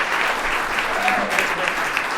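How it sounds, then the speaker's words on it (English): Audience applause at a live event in a flight lounge, a dense, steady clatter of many hands clapping for the whole short stretch, fairly close and loud. "Give him a big round of applause, folks"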